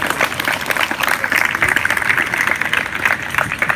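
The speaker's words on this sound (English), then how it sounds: "Clap for yourself." A crowd at an outdoor protest rally claps steadily, a dense, loud patter of many hands close by that continues evenly without pause.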